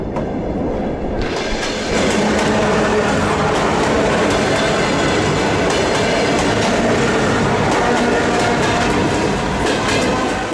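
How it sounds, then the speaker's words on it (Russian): An electric commuter train passes close by near Chernobyl in winter, loud and continuous, with rumbling wheels and rhythmic clacking on the rails, rising after a quieter first second. "Ровно через столько как раз будет мимо нас проезжать последняя электричка со станции"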